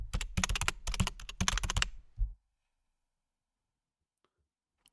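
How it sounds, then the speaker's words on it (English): Computer keyboard typing in a cyber security and heritage classroom lesson: a quick burst of close clicking keystrokes, in about three rapid clusters, lasts under two seconds and is followed by silence. "Let me type that in 1 second."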